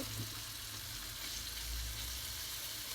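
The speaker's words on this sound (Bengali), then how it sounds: "চিকেনটাকে দিয়ে তারপরে ভেজে নিতে হবে" Marinated chicken frying in a kadai for a stovetop pizza topping gives a continuous, even sizzle, close by and moderately quiet, with no voices over it.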